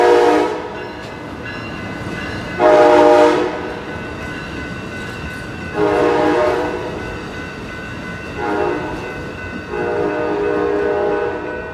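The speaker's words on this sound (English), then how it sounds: "I'm just filming train." An Amtrak passenger train rumbles past close by in Oakland while its horn sounds in several loud blasts spaced a few seconds apart.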